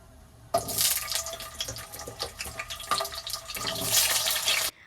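Peeled onions dropping into a bowl of water, a loud splashing, sloshing wash of water that lasts about four seconds and ends abruptly, close by with no talking.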